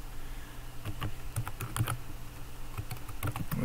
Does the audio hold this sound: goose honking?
no